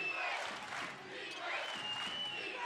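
Basketball arena crowd at a college game, Stephen F Austin against Abilene Christian, roaring and cheering steadily in a dense wash of voices with whistles and shouts, swelling again midway; commentary voices run underneath.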